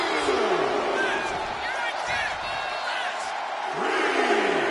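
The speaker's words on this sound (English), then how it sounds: "This crowd got him fired up." A virtual arena crowd in the WWE 2K26 wrestling game roars and cheers continuously, with swelling shouts and a couple of dull thuds.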